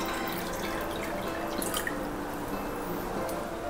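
Liquid, apparently water, pours from a pot into roughly three and a half large cups while masala chai is being made, giving a steady trickling splash with no talking.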